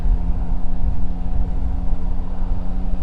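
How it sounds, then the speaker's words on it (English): Yamaha Tracer 9 GT+ motorcycle engine while riding, a steady low droning hum with even tonal harmonics, continuous and moderately loud with no talk over it. "The sound of that engine is just amazing."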